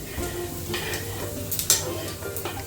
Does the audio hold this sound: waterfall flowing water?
no